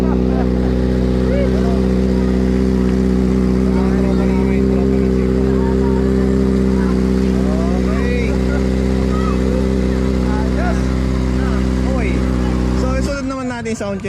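A motorcycle engine revs hard and steadily for a sound check at a bazaar in Sta. Maria, a loud sustained drone with rising and falling pitch sweeps and a sharp change near the end, with people talking around it.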